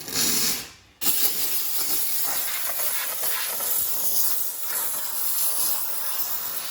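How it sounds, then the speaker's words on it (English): Steam cleaner hissing steadily and loudly while detailing a car's plastic trim, with a brief cutoff near the start before a continuous broadband jet of steam resumes. "we're going to steam the outer edges first"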